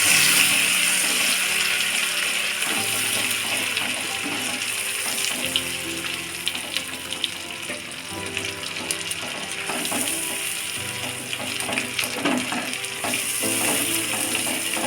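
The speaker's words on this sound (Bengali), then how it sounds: "দেখুন পেঁয়াজটা কিন্তু আমার ভাজা হয়ে গেছে।" Boiled onion sizzles and fries steadily in a pan as it is stirred, a continuous close crackle with occasional scraping and stirring clatter, no talking.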